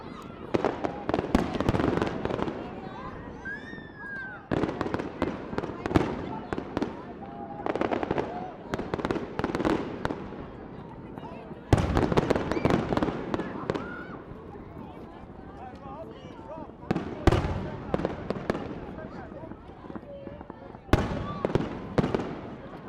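Fireworks bursting outdoors at night, a rapid series of sharp bangs and crackling volleys in clusters, some loud and close, with voices talking in the background between bursts.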